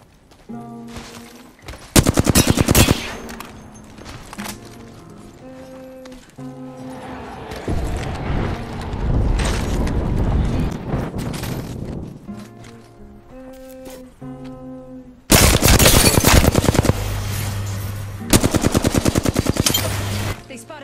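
Gunfire in the video game Apex Legends comes as loud bursts of rapid automatic shots, split by stretches of busier in-game noise and then another long, dense volley.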